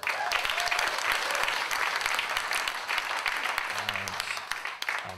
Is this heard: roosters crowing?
no